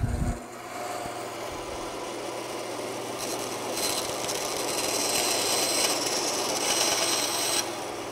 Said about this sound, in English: let's head over to the bandsaw and cut those off